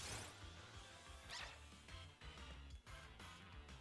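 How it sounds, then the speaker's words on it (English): A dog barks and yips in short bursts indoors, a few sharp calls spread across the moment with some clattering in between. "Oh no, that's a dog."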